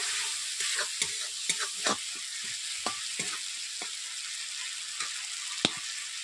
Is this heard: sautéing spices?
yes